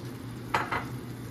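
A spoon twice scrapes through ginataang mais with coconut cream in a pot, two quick soft strokes over a low background hum.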